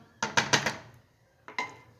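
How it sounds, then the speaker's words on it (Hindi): A pressure cooker lid set in place on a pot of beef trotters: three quick metallic clanks close together, then two more after a short pause, near and fairly loud. "यहाँ पे मैंने प्रेशर कुकर का ढक्कन लगा दिया है"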